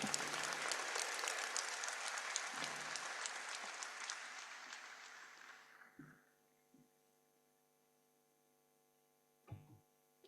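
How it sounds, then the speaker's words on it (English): Audience applause at a formal Bill Gates event in Ethiopia, a warm round of clapping that fades out gradually over several seconds, leaving faint room hum and a couple of small knocks. "Please, a warm round of applause."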